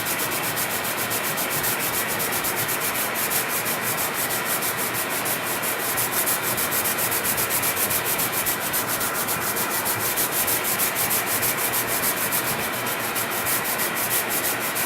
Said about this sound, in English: while I'm vacuuming and doing this sanding